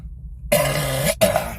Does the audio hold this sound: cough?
yes